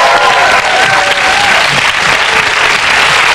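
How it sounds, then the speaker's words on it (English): Studio audience on a television dating show cheering and applauding, a dense, loud wall of clapping that holds steady and unbroken from start to finish with no voices standing out. "And another final cheer from our 300th audience here on Sky One's Love at First Sight."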